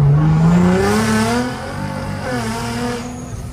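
A tuned sports car engine with a performance exhaust revs loudly, pitch sweeping up then settling into a deep, throaty roar with a rough rumble, close and continuous.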